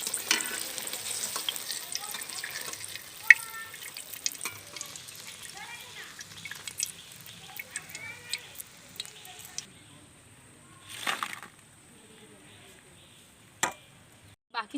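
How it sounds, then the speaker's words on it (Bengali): Pumpkin fritters (kumror chop) fry in hot oil while being turned, giving a steady close sizzle and hiss with occasional louder crackles and scraping knocks. "এবার আমি একটু উল্টে পাল্টে ভালো করে ভেজে নেব।"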